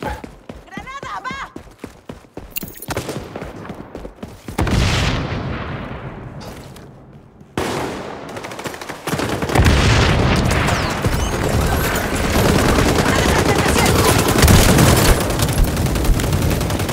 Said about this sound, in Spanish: ¡Granada, va!